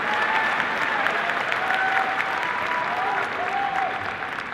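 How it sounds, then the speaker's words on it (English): An audience applauds at a Mandalorian panel at Star Wars Celebration, sustained, dense clapping from a large crowd with a few faint cheers, easing slightly toward the end. "So a huge applause for all of you in this room"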